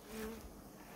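Carniolan honey bees buzz in a brief, loud, continuous drone close by, from a hive set up on a migratory beekeeping platform.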